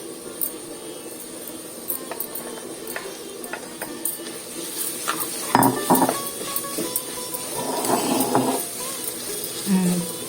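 A crispy ivy gourd fry is stirred in a pan on the stove, a steady sizzle under scraping and clinking of the spatula, with a few louder stirring strokes near the middle, close by.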